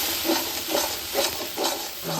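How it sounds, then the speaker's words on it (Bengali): Spice masala with Kashmiri chili powder and a splash of water, stirred in a pan for a kajli fish and eggplant dish, gives rhythmic scraping strokes about twice a second over a soft sizzle. "একটু জল দিয়ে মশলাটাকে ভালো করে নেড়ে চেড়ে মিশিয়ে দেবো।"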